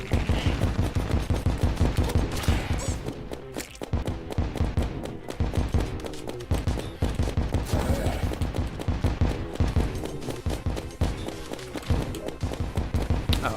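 A snowman cannon fires homing shots in a video game, producing rapid, continuous bursts of loud, sharp blasts that keep a steady rhythm for over thirteen seconds.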